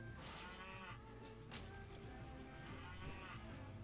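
Cows moo repeatedly in the Tasty Planet Final Bite video game. The lowing calls sit over a steady, loud game soundscape, with no talk.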